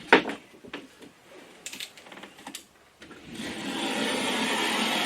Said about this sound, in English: I just simply score it lightly with a nice sharp knife.